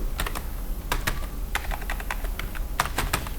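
Rapid clicking keystrokes on a computer keyboard while code is typed in Microsoft Access, coming in quick irregular bursts at close range with no speech over them.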